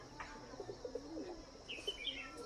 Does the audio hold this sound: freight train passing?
no